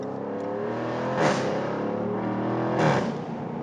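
A 575 HP Jaguar F-Type R Roadster with an 8-speed automatic, its engine droning steadily and rising in two loud revving surges, close and alone with no talk.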